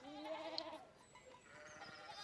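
Sheep in the video game Pentiment bleat faintly in a short, wavering call, with a soft tonal cry early on and quiet ambience trailing after.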